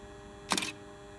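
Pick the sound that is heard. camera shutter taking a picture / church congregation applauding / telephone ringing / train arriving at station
camera shutter taking a picture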